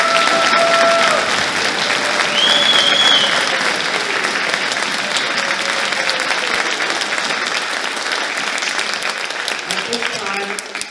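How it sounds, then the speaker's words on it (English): Audience at a high school spring orchestra concert giving a big round of applause, loud sustained clapping that stays full for the whole stretch and eases slightly near the end, with voices faintly mixed in. "Would you please join me in giving a huge round of applause to all of those individuals"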